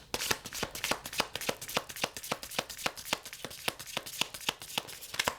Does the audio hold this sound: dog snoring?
no